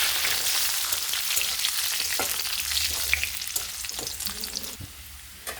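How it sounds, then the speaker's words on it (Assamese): Onions fry in a pan with bay leaves for an Assamese pumpkin curry, a close, crackling sizzle with scattered pops and stirring scrapes, no voices over it. "মোৰ পিঁয়াজখিনি ভজা হৈ গৈছে।"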